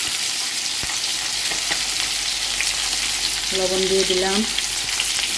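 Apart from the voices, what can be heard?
frying spices with turmeric in a pan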